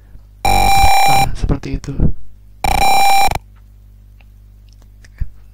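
Steady electronic buzzer tones from a distance sensor in a Tinkercad circuit simulation, two loud sustained beeps, the first longer and partly overlapped by someone speaking, the second shorter and alone.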